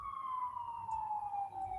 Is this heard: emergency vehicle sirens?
yes